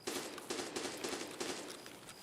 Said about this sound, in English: I should not be hearing that gunfire